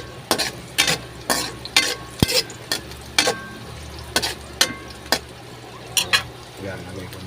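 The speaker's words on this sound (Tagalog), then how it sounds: "Lagay ko na yung bawang at pahuwi." Chopped garlic and sliced shallots sizzling in a pan with repeated scraping strokes of a utensil stirring in an uneven rhythm, close by.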